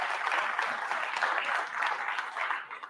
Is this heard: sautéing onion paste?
no